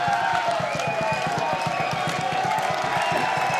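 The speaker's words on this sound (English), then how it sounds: "rapturous applause for the substitutes now" A rugby crowd at a Loughborough versus Hartpury university match applauds the substitutes, a steady dense wash of clapping held at an even level throughout, with faint murmur beneath.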